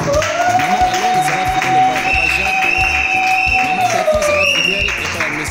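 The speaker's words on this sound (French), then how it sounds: "Est-ce qu'on peut l'applaudir très très fort?" An audience applauds and cheers a graduate of the Institut Ndadou, with steady crowd clapping and a sustained tonal cry running above it, and voices shouting over the noise.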